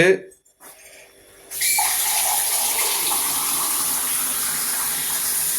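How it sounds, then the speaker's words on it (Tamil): Coconut milk and water poured into a cooking pot for ghee rice and chicken gravy, a steady splashing gush that begins after a brief quiet moment and runs on continuously, with people talking around it. "இப்ப இதுல இந்த தேங்காய் பால் தண்ணி ஊத்துறேன்"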